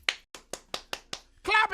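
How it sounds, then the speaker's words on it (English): Six sharp, evenly spaced claps ring out close and dry, one after another, followed by a burst of talking. "all I hear is clapping"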